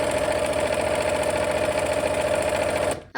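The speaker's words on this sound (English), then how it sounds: "let's go ahead and sew" A sewing machine stitches fabric with a steady, even motor whir and rapid needle chatter, loud and close, running continuously before stopping abruptly near the end.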